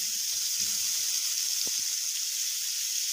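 Minced meat sautéing in butter in a pan: a steady, fairly faint hiss of frying with a few soft clinks and taps underneath, no talking.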